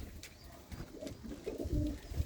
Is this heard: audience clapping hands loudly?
no